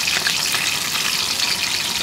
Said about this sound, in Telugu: ఆయిల్ వేడెక్కింది కదా, ముందుగా తరిగి పెట్టుకున్న పచ్చిమిర్చి, ఉల్లిపాయ, కరివేపాకు అన్నది వేసుకున్నాము.